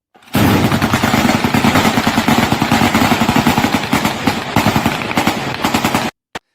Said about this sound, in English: literally practicing air defense by firing some kind of ox-pulled machine gun and AK-47s into the air